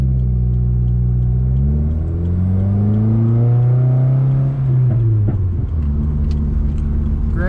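A 2015 Subaru WRX with its FA20DIT turbo engine and a tuned setup pulls steadily on the road, giving a continuous loud engine drone. The pitch rises and falls through the gears, with one brief dip around a shift.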